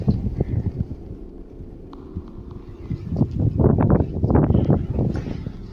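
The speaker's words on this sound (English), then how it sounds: "noting that you can hear the wind and see the plants moving outside." Wind gusting around an abandoned house, a low rumbling rush that swells and fades with rustling bursts, loudest toward the end, with no voices.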